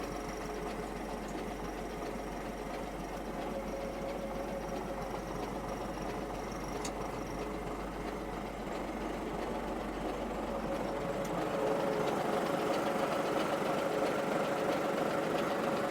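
An MTZ 892 tractor engine runs steadily at idle with a dense, continuous diesel clatter and knock that grows a little louder toward the end, close by with no speech.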